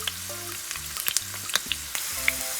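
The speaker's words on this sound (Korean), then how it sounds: "마늘이 점점 노릇노릇하게 부어지고 있어요" Garlic fries gently in plenty of olive oil over low heat, a soft steady crackling with small scattered pops, accompanied by a low background hum.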